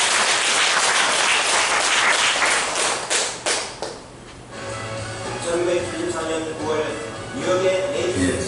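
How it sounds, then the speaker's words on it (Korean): An audience at a commemorative religious event gives thankful applause, loud dense clapping that thins into a few final claps and fades into quieter room sound with faint voices. "우리 감사의 박수를 한번 보내주시겠습니다."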